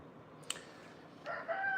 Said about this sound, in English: sounds as if the rooster is in the house